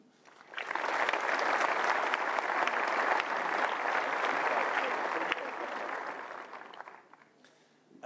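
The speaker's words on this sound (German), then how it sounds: "Vielleicht ein kleiner Applaus für die." Applause rises from an audience at a developer conference, swelling quickly into a full, even round of clapping that lasts about five seconds and then fades away into quiet.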